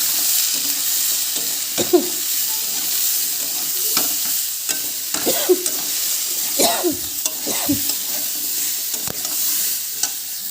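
Lentils and potatoes fry in a pan under a constant sizzle, with repeated scraping strokes of a spatula stirring them every second or two, close and fairly loud.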